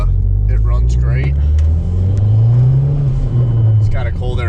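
A Mazdaspeed 3 with a turbo and cold air intake runs at idle, a loud, close, steady low engine drone with a slight rise in pitch partway through, while someone talks over it.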